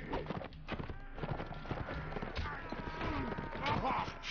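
Horse galloping in the medieval combat video game Mount & Blade, with a steady, rapid clip-clop of hooves under continuous battle noise, plus a faint whinny.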